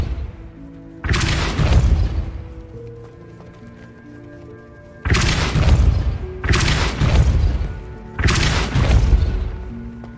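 The Depulso spell in Hogwarts Legacy fires four heavy, booming blasts. One comes early and three follow in quick succession later, each a loud, deep whoosh and rumble set against quiet game ambience.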